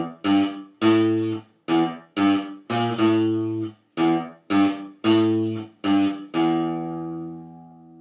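A distorted electric guitar plays a simple beginner riff on the low sixth string, about a dozen chugging single notes in a steady rhythm, ending on a long sustained ringing note; loud and without any talk.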